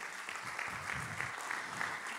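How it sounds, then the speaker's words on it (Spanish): A church congregation claps together in steady, sustained applause that holds at an even level throughout. "Un aplauso."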